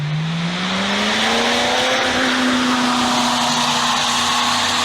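Auto Union Type C V16 race car engine roaring loudly and steadily, its pitch climbing gradually as the car accelerates, with no talk over it.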